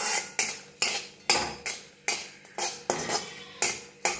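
Cardamom and other whole spices are dry-roasted in a pan and stirred in a regular rhythm, each stroke a loud close scrape against the metal, about two per second.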